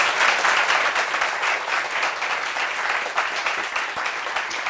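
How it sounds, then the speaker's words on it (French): Steady applause fills a room as an audience claps for a guest, dense and fairly loud throughout, with no talk over it. "Applaudissements pour Priscilla"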